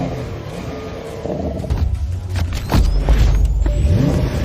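A Porsche 911 Dakar, an off-road-styled sports car with a 480-horsepower engine, drives past close by, its engine note rising into a loud rumbling growl with shifting pitch sweeps as it accelerates.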